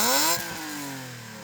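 A BMW M3 E36 engine is revved hard; the note peaks loud at the start, then the revs fall away in a smooth, descending drone as the throttle is released.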